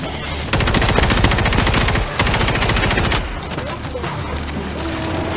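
Gunfire from a squad shooting zombie hordes in the World War Z video game's Horde Mode, loud rapid bursts of automatic fire that pause briefly and resume, then give way to scattered shots.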